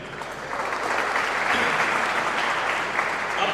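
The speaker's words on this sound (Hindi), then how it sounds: "अगर आप थोड़ा सा रिदम के साथ मुझे तालियां दे देंगे" An audience claps along during a Hindi song performance, a dense, steady wash of many hands that keeps going for the whole stretch.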